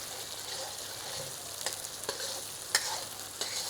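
Ground coriander stirs and dry-roasts in a pan, a soft steady sizzle with occasional scraping clicks of a spoon against the metal, fairly quiet and close.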